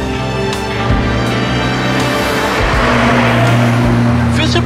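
An unrestored 60-year-old Jaguar E-Type engine drones and revs steadily, close and loud, with gear changes shifting the pitch while someone talks over it.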